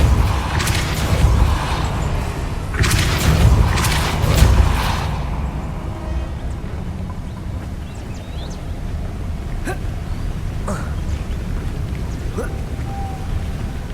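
A Depulso spell cast in Hogwarts Legacy: a burst of deep booming, rushing whooshes in the first few seconds, then a quieter ambient rumble with scattered small magical tinkles and chimes.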